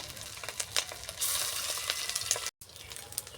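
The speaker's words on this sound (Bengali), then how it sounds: "এইভাবে সব বড়াগুলো ভেজে নেব।" Fish roe fritters fry in hot oil with a steady, close sizzle, broken by scraping stirs and a brief cut in the sound.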